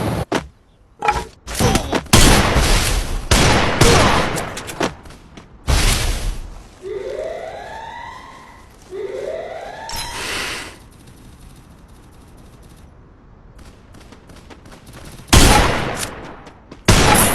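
Desert Eagle pistol shots in the Free Fire mobile game, loud single booming reports fired in scattered bursts, separated by quieter stretches holding rising whooshing game effects.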